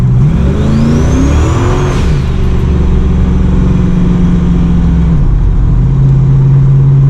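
A car fitted with a Ford 8.8 limited-slip differential accelerating hard in second gear on a cold road, its engine loud and close, revving up with a rising whine, then holding steady.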